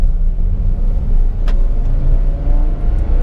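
A Ferrari F12 V12 engine runs at light throttle from inside the car, a steady low rumble with a rising tone and a brief whine in the middle.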